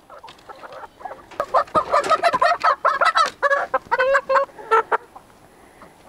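A flock of chickens clucks busily, young birds mixed in with an older flock, the calls overlapping in quick bursts that grow louder and denser through the middle and stay close by.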